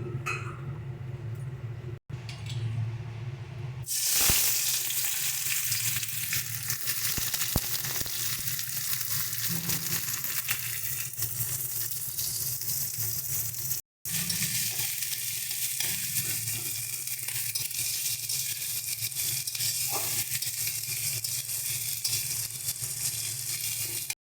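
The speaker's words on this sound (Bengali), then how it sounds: "এবার এর মধ্যে আমরা পেঁয়াজটা ফোড়ন দিয়ে দিচ্ছি।" Onion dropped into hot oil in a wok, bursting into a loud, continuous close sizzle that carries on steadily with occasional stirring clinks, no talk.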